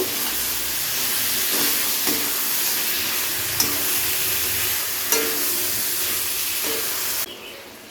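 Ridge gourd stirred and fried with spices in a pan hisses and sizzles steadily, broken by a few scraping stirs, before the sound drops off near the end.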